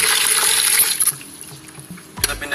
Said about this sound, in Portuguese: Colocando água nova ali, ó.